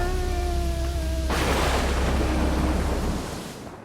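Thunder roars in as a loud, sustained rumble that cuts abruptly across a sustained musical tone, then slowly fades in this vintage science fiction comic book narration.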